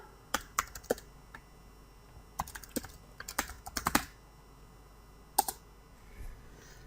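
Keys clatter on a computer keyboard as a folder name is typed, in a few quick bursts of clicks separated by short pauses, close and fairly quiet.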